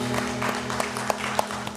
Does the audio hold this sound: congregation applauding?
yes